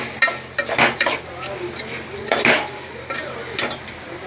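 Rinsed rice tipped into a pot for spicy matki khichdi and stirred, giving several clear metallic clinks and scrapes of a spoon against the pot at irregular intervals, close and fairly loud.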